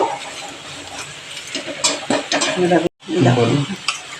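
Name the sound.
spices frying in a pan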